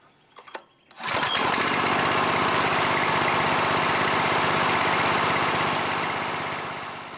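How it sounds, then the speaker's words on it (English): The gasoline engine of an air compressor used for refilling air rifles starts after a few faint clicks and runs loud and steady while warming up, easing slightly toward the end. "It's not a bad idea to let the motor warm up a few minutes with the condensation drains in the open position and the compressor unloaded."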